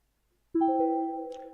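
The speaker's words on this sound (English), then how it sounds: "That's the sound of the email coming in." A short, soft chime rings out after a moment of silence, a clean tonal ping that lingers and fades slightly.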